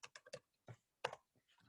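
Quiet clicks of typing on a computer keyboard come in a short irregular burst of keystrokes, then a pause and a few more taps, faint and close with no talk.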